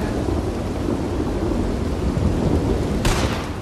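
Steady heavy rain with a rumble of thunder in the video game Red Dead Redemption 2, loud and continuous, with a bright burst of crackling thunder near the end, no talking.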